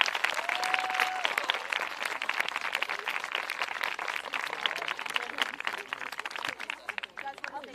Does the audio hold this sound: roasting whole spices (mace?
no